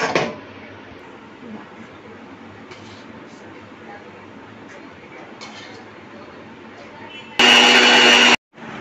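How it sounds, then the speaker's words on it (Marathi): An electric mixer grinder grinds soaked chana dal in a short, loud, steady whirring burst lasting about a second near the end, with a quiet stretch before it. "मी डाळ वाटून घेते."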